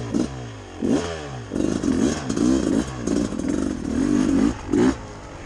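A 2021 Beta 300 RR two-stroke dirt bike engine revs and bogs in short bursts, rising and falling several times over a steady ride, close and fairly loud with some clatter.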